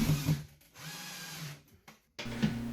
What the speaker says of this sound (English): I'm installing it with drywall screws